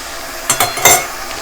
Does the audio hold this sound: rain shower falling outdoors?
no